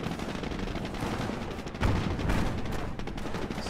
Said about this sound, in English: Firing gun!